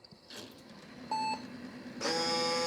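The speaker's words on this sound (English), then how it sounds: "We got one beep, which should be good" A Megatouch Maxx arcade machine gives a single short electronic beep as it boots, a clear steady tone standing out over faint hum, followed by a louder bright buzzing tone.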